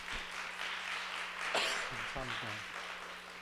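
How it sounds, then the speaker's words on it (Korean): A church youth congregation applauds, a steady wash of clapping running under someone speaking. "우리 막내 요한이 순 모든 순원들에게 감사하며 박수하겠습니다"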